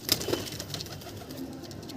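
Madras pigeons coo in a loft, a soft, low repeated coo close by, with a faint flutter or scuffle at the start and quiet room noise behind.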